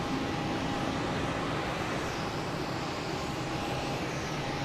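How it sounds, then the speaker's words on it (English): A Porter airliner arriving from Toronto lands on runway 4 left at Boston Logan, its steady broad jet roar holding at moderate distance throughout, with a faint engine tone running under it. "We got a Porter coming in from Toronto, landing on 4 left."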